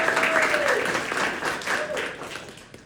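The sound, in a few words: audience applause at poetry open mic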